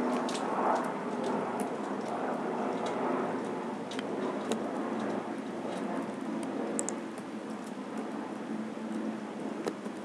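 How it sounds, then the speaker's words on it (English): A broad, steady roar of an aircraft passing overhead mixed with rain patter, continuous and fairly loud, with no talking. "there's a plane going over my house"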